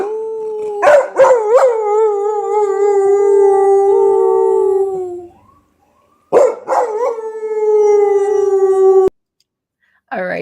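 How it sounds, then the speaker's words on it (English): A dog named Jasper howls in a replayed home video, calling out toward someone he sees through a window. Two long, loud wavering howls, each opening with a few sharp yips, are separated by a brief silence. "Jasper saw him out the window and was howling to him."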